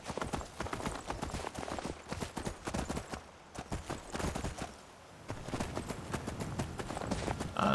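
A horse's hooves clip-clop steadily in Skyrim, a fast rhythmic run of hoofbeats that briefly pauses and then resumes, fairly close, with no talking over it.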